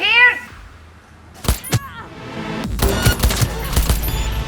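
Gunfire in Cyberpunk 2077 breaks out as a rapid, loud burst of shots after a short cat meow and a few isolated pops, with a voice speaking over the action.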